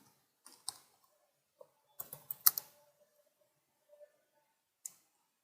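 Typing code on a computer keyboard, sparse close keystrokes with a quick burst of several clicks in the middle and a few isolated taps before and after, over near silence.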